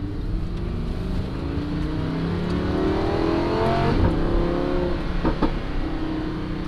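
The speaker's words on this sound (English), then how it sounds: "You guys see that exhaust? It's gonna get better. I love those pops." A Lamborghini Huracan's exhaust revs loud and close with a deep, continuous roar that swells toward a peak. Sharp pops and crackles cut through the roar near the end.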